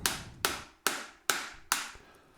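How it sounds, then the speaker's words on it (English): A hammer strikes a bolt on a 20-year-old dual-sport dirt bike, five evenly spaced sharp metallic blows about half a second apart, each ringing briefly before the next, close and alone without talk. "Grabbed the original bolt, showed it my upper teeth to intimidate it into the hole, and hit it with my hammer."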